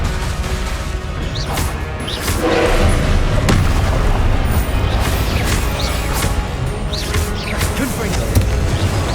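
Confringo blasting spells explode again and again in the video game Hogwarts Legacy, giving loud, crashing booms over a dense, noisy battle mix, with spoken spell calls mixed in.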